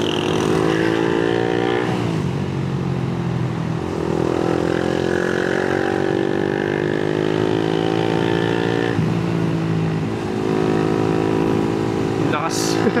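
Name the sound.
Honda Winner X motorcycle engine with remapped stock ECU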